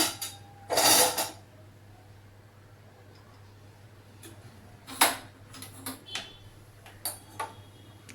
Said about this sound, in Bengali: গ্যাসটা জ্বালিয়ে দিলাম।